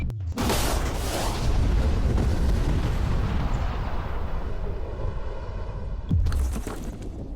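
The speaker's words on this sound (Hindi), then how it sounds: "ये एक असली धमाका है" A huge explosion erupts with a sudden blast, then a long roaring rumble that lingers for several seconds before a second sharp boom near the end.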